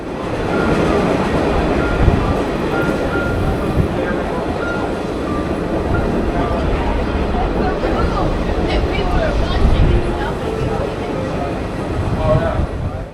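A steam excursion train runs at track speed over 40 mph on Florida trackage, heard from onboard as a continuous loud rolling rumble with rhythmic wheel clatter, talk faintly mixed in.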